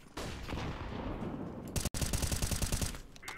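Gunfire in a shooter video game during a FACEIT match: a muffled stretch, then a sharp break into rapid automatic bursts, loud and close, with quick repeated shots to the end.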